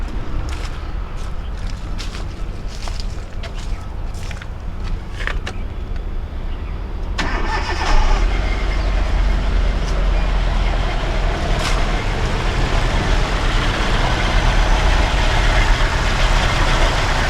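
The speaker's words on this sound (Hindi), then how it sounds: "अब एक बार अपनी कार को स्टार्ट करके देख लेते हैं।" A car engine starts and settles into an idle after a PCV valve install meant to fix an oil leak. Sharp clicks come first, then a steady, loud, low rumbling idle that carries on to the end.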